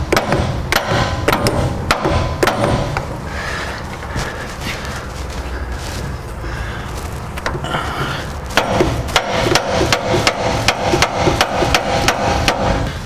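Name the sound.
hammering a track bar bushing into place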